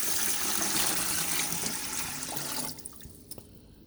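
Water, about 2 quarts, pours steadily into a pot with a broad, rushing splash that stops abruptly, leaving a few faint drips and clinks.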